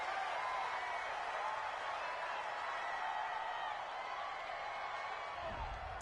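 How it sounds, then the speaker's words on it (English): Home crowd in the stands at a football game reacting to a referee's call with a steady, far-off roar of cheering and applause that holds throughout without pause. "This home crowd, they're happy with that call."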